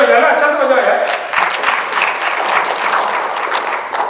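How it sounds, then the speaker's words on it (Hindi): Audience clapping during a business training talk on client value propositions, a steady wash of applause from a room of people that swells at the start and holds for several seconds. "तालियां बजाना अच्छा से बजाओ यार"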